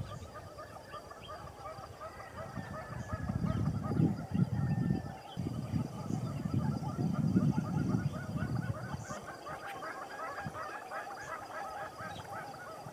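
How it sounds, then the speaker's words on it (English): A displaying male western red-billed hornbill in The Gambia gives a rapid run of repeated clucking notes, fairly faint, with a louder low rumbling passage in the middle. "Nearby was a displaying male western red-billed hornbill."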